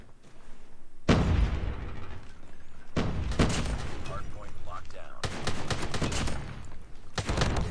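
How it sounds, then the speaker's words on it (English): Striker shotgun blasts in Call of Duty: four loud, heavy booms spaced a second or two apart, each followed by a thick ringing tail, over constant battlefield noise. "We got our shotgun here."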